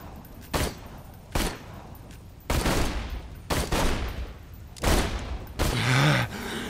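Gunfire from the video game Borderlands 2 comes in five or six loud bursts, each lasting about half a second to a second, separated by short gaps, with a low groan at the end.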